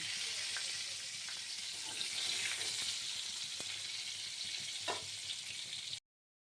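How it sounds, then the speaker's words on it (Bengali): Pointed gourd (potol) fries in hot oil with a steady, fairly quiet hiss. A few faint clicks sound along the way, and the sizzle stops abruptly near the end. "এবার এটা ভালো করে ভেজে নেব।"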